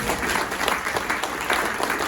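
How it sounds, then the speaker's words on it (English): Warm audience applause at a community mural unveiling, a full, even patter of many hands close by, holding steady for a couple of seconds. "Round of applause, everyone."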